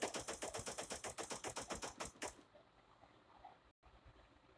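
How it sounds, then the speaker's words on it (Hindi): Automatic gunfire in the video game Cyber Hunter: a rapid, evenly spaced burst of shots runs for a little over two seconds and then cuts off, leaving quiet background noise. "ऑटो फायरिंग हो रहा है"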